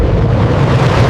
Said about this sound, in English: A powerful explosion tore through the submarine's hull deep beneath the North Sea.